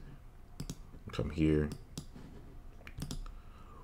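Mouse clicks on a computer while working in Logic Pro X to build an 808 sound: a handful of sharp, close clicks scattered between bits of speech.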